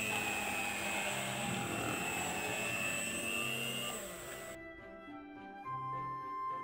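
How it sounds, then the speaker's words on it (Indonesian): An electric mixer at low speed beats pandan tape sponge cake batter with instant coconut milk and melted margarine, giving a steady motor whine that drops off sharply toward the end. "Mixer kembali dengan kecepatan rendah."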